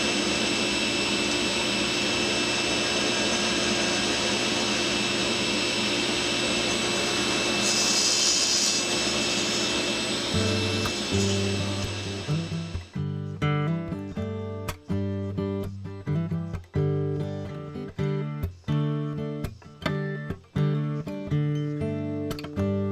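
A shaper, also called a spindle moulder, runs as a loud, steady broadband roar while cutting homemade Domino-style loose tenons. It then spins down into a quieter machine hum broken by repeated sharp clicks and knocks.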